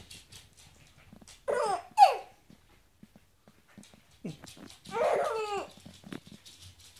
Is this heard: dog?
yes